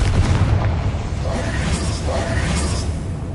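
Fiery Confringo spell blasts in Hogwarts Legacy, a dense rumbling boom with crackling bursts and whooshing debris that fills the whole span at steady loudness, with no speech over it.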